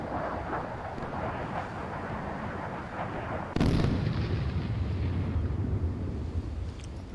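Naval guns firing during a modern fleet battle in the Sea Power naval warfare game, a loud burst at midpoint followed by sustained heavy rumbling over a constant din of battle noise.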